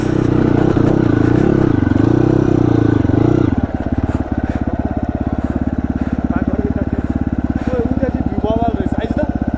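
A motorcycle climbing uphill on a mountain road to Kalinchowk in snowy, sunny conditions, its engine loud and close, a deep steady drone that shifts into a rapid rhythmic putter partway through, with no clear talk.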